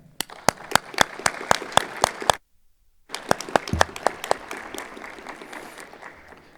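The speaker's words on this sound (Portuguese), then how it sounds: "uma salva de palmas, não só à DPE" Audience applause at a solemn session honoring Public Defender Day, a dense patter of claps that cuts off briefly, then resumes and trails into scattered clapping.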